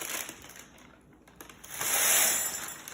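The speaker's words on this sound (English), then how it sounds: "You could hear how crunchy they are just by the sound of them hitting that glass" Hot, crunchy roasted chickpeas poured off parchment into a glass serving bowl, a soft scattered rattle and clatter of small pieces that swells into a denser rush near the end.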